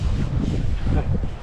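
Wind gusts across an outdoor football field, a steady low rumble buffeting the microphone throughout.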